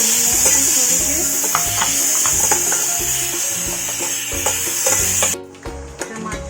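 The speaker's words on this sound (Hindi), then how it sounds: "हल्दी, लाल मिर्च पाउडर, थोड़ा काला नमक डालेंगे और इसे भून लेंगे थोड़ी देर।" Turmeric, red chili powder and black salt fry with a paneer filling in a pan, giving a loud, close sizzle with rhythmic stirring scrapes and taps that ease off near the end.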